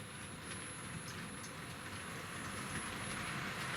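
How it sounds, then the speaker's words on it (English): A Tri-ang model railway English Electric locomotive hauling a freight train starts gently, giving a steady, quiet electric hum and faint rolling rumble that continues evenly throughout with no talk. "let's start this English electric and freight train up"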